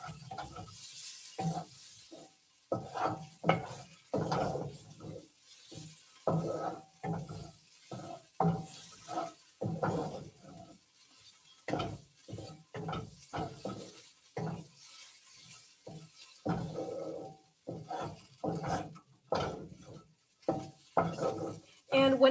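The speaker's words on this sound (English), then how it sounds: "you have to keep stirring because the pot is still really hot" Stirring a vegetable omelette mixture in a hot pot with the heat off, a utensil scraping and clinking against the metal in irregular bursts, close up, with a faint sizzle between strokes.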